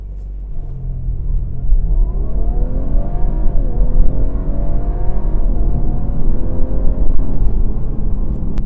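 A 2018 Audi A5 Sportback accelerating hard from inside the cabin, its engine note climbing steadily through the gears with a loud, continuous rising drone and road rumble, no talking.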